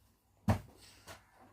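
A single sharp thump of a door shutting, followed a moment later by a softer second knock, in an otherwise quiet room.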